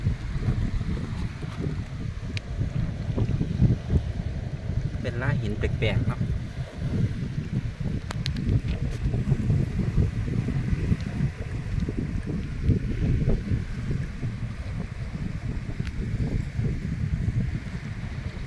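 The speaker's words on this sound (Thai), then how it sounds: "ฟังเสียงน้ำทะเลไมพี่น้อง" Sea waves wash steadily against a rocky beach in Chumphon, Thailand, with wind buffeting the microphone throughout and someone speaking briefly over the surf.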